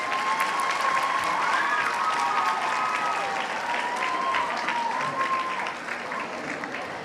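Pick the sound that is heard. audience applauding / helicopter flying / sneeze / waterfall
audience applauding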